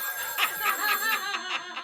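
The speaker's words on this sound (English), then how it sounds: "Answer the phone, Adam. Answer the phone." A telephone rings in an office, a repeating electronic trill pulsing steadily about every quarter second, moderately loud and close, with no talk over it.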